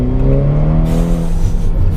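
Ferrari Portofino retractable hardtop convertible on tight, twisty roads, its engine and exhaust roaring close and loud as revs rise and a quick gear shift drops the pitch mid-pull.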